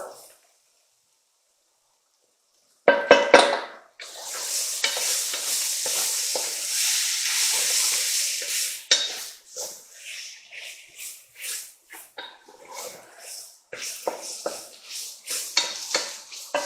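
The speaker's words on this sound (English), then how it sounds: "And now we are going to add in our flour." Flour is stirred into a pot roast pot with steady scraping and sizzling, loud and close, in irregular strokes after a brief silence.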